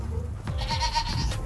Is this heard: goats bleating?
yes